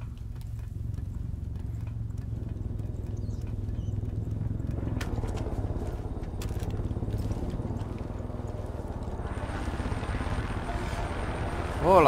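Helicopter flying overhead in the video game Far Cry 5, a steady low rotor rumble with a rhythmic beating texture, sustained and fairly loud, joined by brighter game sounds near the end.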